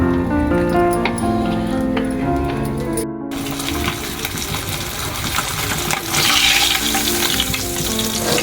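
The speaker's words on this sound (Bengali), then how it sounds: "আমি মাছটাকে ফ্রাই করে নিব।" Rohu fish frying in white oil on a home stove gives a loud, dense, continuous sizzle with crackling spits, close up, following a few seconds of tonal, music-like sound.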